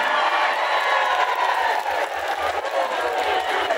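Audience at an Islamic religious talk in Merauke, Papua breaking into a dense burst of clapping and cheering, steady and fairly loud for a few seconds, with no voice speaking over it.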